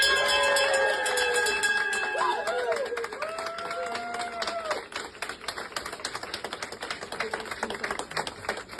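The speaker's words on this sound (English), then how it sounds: "Ring that bell, girl." A bell rings repeatedly with bright, sustained metallic tones at first, then gives way to a fast clatter of clapping and crowd noise as people cheer and call out encouragement.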